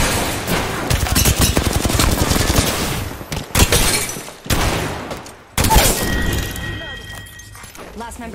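Rapid bursts of gunfire fill a multiplayer shooter match played in duos, with dense, loud volleys and a few sharp cracks and thuds running almost without a break, while players talk over the shooting.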